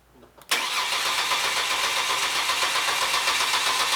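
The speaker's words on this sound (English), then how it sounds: "I'm going to go with no trigger and go ahead and crank it again" A car engine cranks over and runs on steadily during a diagnostic scope test, after a brief quiet lead-in; the broadband engine noise is loud and continuous with no speech over it.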